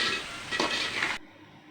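Tomatoes sauté with rock salt in a pan during red rice egg biryani cooking: a soft sizzle with a brief scrape of stirring, cutting off abruptly.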